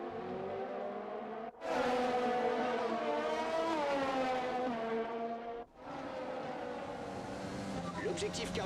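Race car engine in F1 2020 at the Hungaroring, revving in rising and falling harmonic sweeps with two abrupt gear-change dips, loud and close, with a voice briefly over it.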